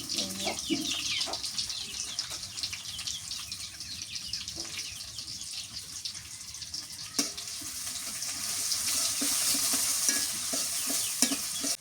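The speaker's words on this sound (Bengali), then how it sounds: "পেঁয়াজ ভাজা হয়ে গেছে" Onions sizzle steadily in hot mustard oil while a utensil scrapes and stirs the pan now and then.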